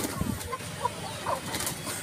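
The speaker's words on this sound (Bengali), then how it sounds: "এখানে রয়েছে আমাদের কিছু মুরগি" A few farmyard chickens cluck in short, scattered calls over a soft background hum, fairly close but not loud, with no talking over them.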